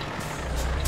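A heavy truck engine in Euro Truck Simulator 2 rumbles low and steady at close range, with faint high beeps pulsing briefly.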